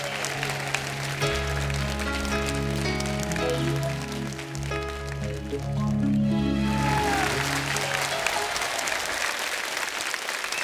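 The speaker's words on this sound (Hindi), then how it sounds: "बारिश हो रही है।" Steady rain falling, heard as a broad, even hiss that sits beneath a loud song with bass, chords and other instruments for most of its length.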